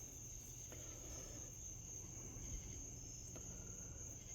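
A cicada drones in a continuous, even high-pitched buzz outdoors, steady and fairly loud throughout with no voices over it.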